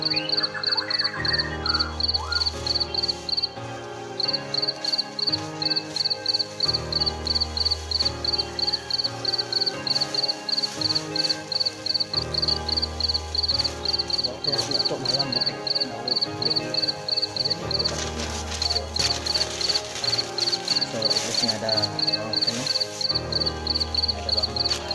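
A steady, rapid chirping from crickets at a cricket farm runs throughout, high and pulsing, layered over a rhythmic background music bed with repeating low notes.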